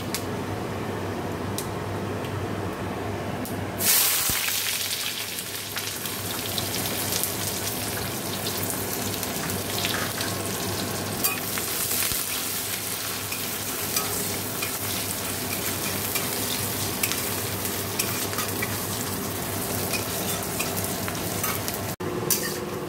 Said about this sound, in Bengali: তো এখন ডালটা ফোড়ন দেবো।